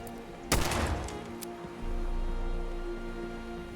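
A single loud burst of gunfire from Fallout 76 cracks out close by, followed by a few faint shots, then settles into a low, steady rumble with no talking.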